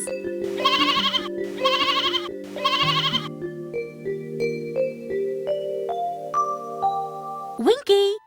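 A sheep bleats three times in a row, a loud, quavering bleat each time, over bright music with chimes in a children's animal story, and a quick rising sound effect follows at the end.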